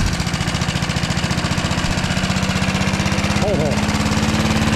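A 1974 Dynamow lawn mower engine idles loudly and steadily, with a rapid, even chugging pulse that sags slightly as the revs come down; a voice briefly speaks over it.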